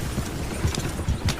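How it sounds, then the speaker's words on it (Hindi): Hooves of a horse-drawn carriage clip-clop in a quick, uneven rhythm as the carriage starts running, several distinct thuds over a soft rumbling background. "गाड़ी वाले ने चाबुक चलाई और घोड़ा गाड़ी दौड़।"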